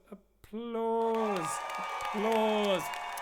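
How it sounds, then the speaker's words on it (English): A burst of crowd cheering and whooping with long sustained vocal cries swells in twice over a steady roar, like a canned applause effect played during a livestream. "Applause."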